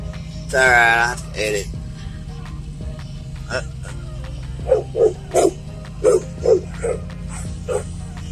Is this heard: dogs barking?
yes